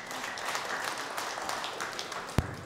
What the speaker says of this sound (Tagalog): Atin po siyang palakpakan.